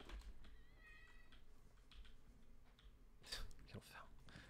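A cat meows indoors, a few short faint mewing calls under quiet background talk and clicking during a session of the game Tiny Tina's Wonderlands.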